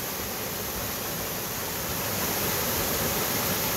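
A strong waterfall at Mahogany Falls in Trece Martires, Cavite pours in a steady, dense roar of rushing water, loud and unbroken throughout with no voices.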